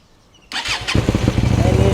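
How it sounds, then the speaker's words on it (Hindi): A Hyosung GT250R motorcycle engine cranks and catches, then settles into a rough, throbbing idle, loud and close. "तो ये अभी होगी बाइक चालू"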